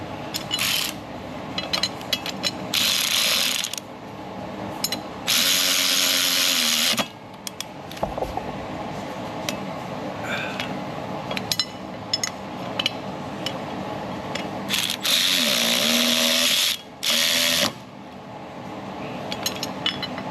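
Power tool bursts tightening the last nuts on a Jaguar XF rubber driveshaft coupler, several loud whirring runs of a few seconds each separated by pauses with faint metallic clinks.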